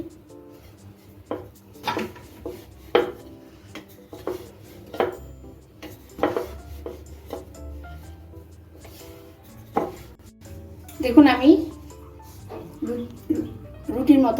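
A wooden rolling pin rolls out small rounds of vegetable spring roll dough on a board, making soft rubbing strokes and intermittent knocks and clacks, with someone speaking at times over the work.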